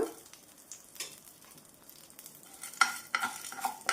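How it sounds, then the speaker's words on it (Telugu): Chana dal and urad dal frying lightly in oil over a low flame for a chutney, a faint soft sizzle with occasional stirring scrapes and clinks. "ఈ నూనెలో ఒక టేబుల్ స్పూన్ దాకా పచ్చనగపప్పు ఒక టేబుల్ స్పూన్ దాకా మినపప్పు వేసుకోండి ఇవి లైట్గా వేపుకోవాలన్నమాట"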